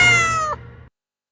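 A cat meows once with a long, harmonic, clearly pitched call, close and alone, with no talk around it, ending abruptly.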